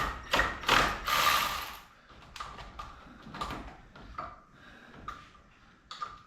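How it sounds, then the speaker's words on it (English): A small hand ratchet works bolts on the crankshaft pulley of an NB Mazda Miata, giving bursts of rapid clicking followed by sparse, quieter single clicks and light metallic taps at close range. "So I like a little ratchet and hold the pulley as tight as you can."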